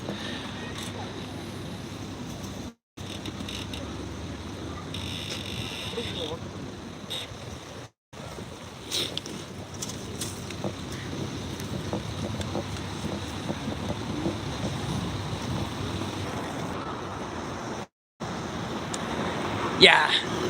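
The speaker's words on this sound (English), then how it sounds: "We're walking along the Sumida River right now." Steady wind buffets the microphone along the Sumida River in Tokyo during New Year, with a broad wash of water and passing boat noise underneath and faint background sounds, continuous with a few brief dropouts.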